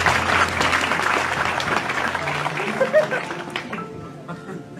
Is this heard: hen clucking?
no